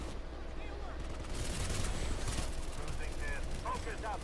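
An auto shotgun in a video game fires in a quick burst of shots over a busy game soundscape, heard faintly behind a voice.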